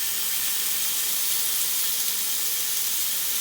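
Chicken cheese kababs sizzle on a hot tawa, a steady bright hiss with no break and no talk, close and fairly loud throughout.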